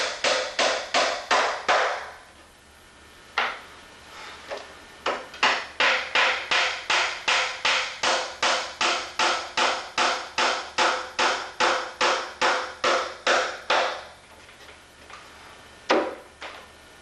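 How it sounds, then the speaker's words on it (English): Rapid, evenly spaced hammer blows drive wooden shelves tight into place, loud and close, in two long runs of strikes separated by short pauses, with a few final isolated knocks. "I had to hammer them in to make them tight"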